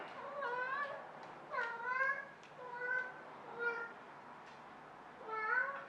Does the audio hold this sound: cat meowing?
yes